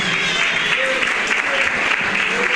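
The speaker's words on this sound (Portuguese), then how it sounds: "Os aplausos que são para Jesus." A church congregation applauds for Jesus during an evangelical service, a full, continuous wash of clapping from many people, loud and sustained throughout.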